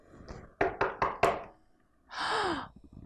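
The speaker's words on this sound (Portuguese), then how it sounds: "Vamos bater na porta?" Four quick, sharp knocks on a door in a steady rhythm, close and clear, followed by a short breathy gasp-like sound.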